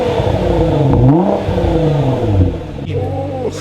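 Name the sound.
car engine revving through aftermarket exhaust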